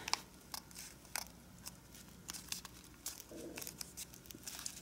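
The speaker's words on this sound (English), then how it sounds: "let's fold this whole thing behind right on these two edges" Paper is folded and creased by hand to form a card deck case, quiet close crinkles and sharp little crackles arriving irregularly throughout, faint and alone.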